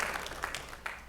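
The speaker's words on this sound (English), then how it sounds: "Everybody applause for Johnny." Audience in a church clapping together, a short burst of applause heard fairly faintly from across the room, with scattered voices in the background.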